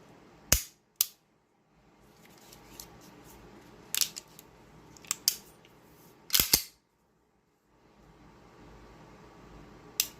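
A Derya Melik G kit pistol in duo tone is decocked and dry-fired, giving several sharp, close metallic clicks and snaps spread across a quiet room, with short pauses of faint shuffling between them.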